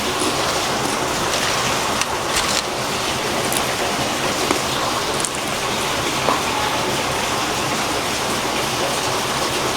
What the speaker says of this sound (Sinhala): එළිය නම් හොඳටම වහිනවා.